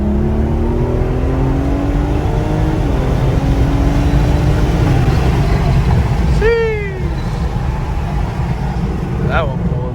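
A BMW F30 with a first-generation B58 engine and Bootmod3 tune accelerates at full throttle from a rolling start, its note climbing steadily for several seconds before easing off near the end, with people talking over it.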